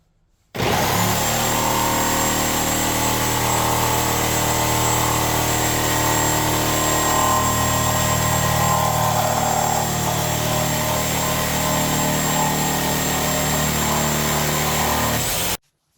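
A reciprocating saw fitted with a Diablo carbide demolition blade cuts through wood with nails, a loud, steady motor whine and buzzing rasp that runs unbroken for about fifteen seconds, then stops abruptly.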